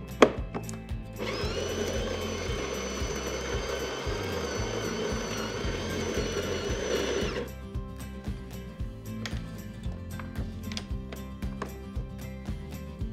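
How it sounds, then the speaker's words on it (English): A La Specialista EC 9335.M espresso machine's built-in grinder grinds coffee beans with a loud steady whirring drone lasting about six seconds, then cuts off, leaving quieter clicks and handling sounds. "We only need to make a very small adjustment to the grinder, and we can only do this while the grinder is operating."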